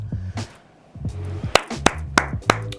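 A single person claps their hands, four or five sharp, close claps in a loose, uneven rhythm that stand out over a quieter tonal background.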